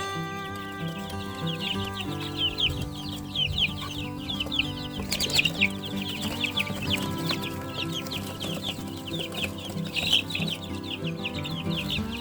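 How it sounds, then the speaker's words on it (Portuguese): Hens cluck and chicks peep busily while the young are separated from the chickens on a small farm, with continuous overlapping calls and a louder burst of squawking partway through. "O que você viu agora foi a gente separando os filhotes de galinha"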